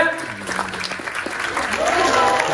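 Audience applause at a podcast award ceremony in Kyiv, a steady wash of clapping with voices and cheering mixed in, growing slightly fuller toward the end.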